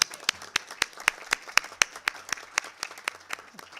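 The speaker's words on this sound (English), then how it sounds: "I would love to clap for Beverly" Sparse, distinct claps from a handful of people at a public health committee meeting, sharp individual hand strikes in a loose rhythm with soft crowd clapping underneath.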